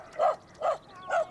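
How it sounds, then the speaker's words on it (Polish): A dog in a Polish-dubbed Caillou cartoon gives three short, evenly spaced barks, close and clear with nothing else behind them. "Kajtuś przestraszył się tego psa."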